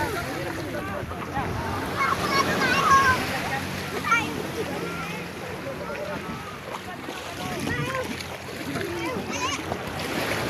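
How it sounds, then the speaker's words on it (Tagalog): Strong sea waves at Panutsutan beach in Nasugbu, Batangas, a continuous rushing surf with occasional splashes and wind, while people talk nearby over the water noise. "Yun o, alon, lakas na."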